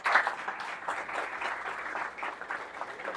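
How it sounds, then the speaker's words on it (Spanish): Church congregation applauding after a pastor's sermon, a steady roomful of clapping that holds evenly throughout without talk. "Un aplauso a ellos, por favor."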